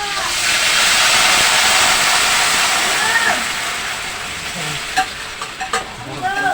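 Mung beans go into a hot pan with meat for Filipino ginisang monggo, sizzling loudly and steadily, with a few clinks and scrapes of stirring near the end.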